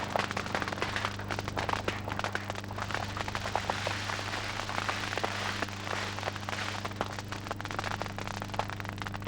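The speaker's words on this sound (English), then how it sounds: "the sugarcane is cleansed by fire before harvest" Sugarcane field on a Peruvian cooperative plantation burns before harvest, the fire giving a dense, continuous crackle and popping over a steady low hum.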